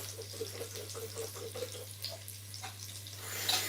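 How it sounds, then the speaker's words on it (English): Butter beans are rinsed under a running kitchen tap, a steady quiet stream of water with a low hum beneath it, swelling into a louder splash at the end. "Giving the butter beans a rinse."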